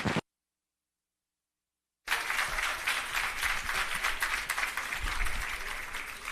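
An audience claps at an official commissioning ceremony for an irrigation system, steady full applause that starts suddenly after a short silence and carries on to the end.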